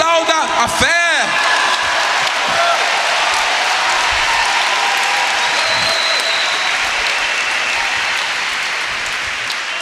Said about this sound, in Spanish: aplauso a la fe